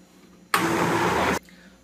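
A blender whirs loudly for under a second, mixing peanut cake batter with green banana biomass, starting and stopping abruptly against quiet background.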